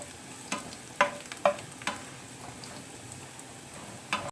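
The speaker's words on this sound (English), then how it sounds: "Wait for 1 minute to turn the garlic into brown." Garlic frying in a pan, cooked until brown for a spicy vegetable pasta, with a steady faint sizzle broken by several sharp clicks of a utensil stirring against the pan.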